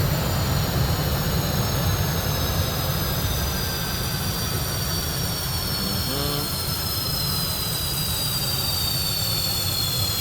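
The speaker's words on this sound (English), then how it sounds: "We are good to shut down engine number 1." F/A-18 jet engine shutting down in the DCS flight simulator, a loud steady roar with high whining tones slowly falling in pitch as the engine spools down.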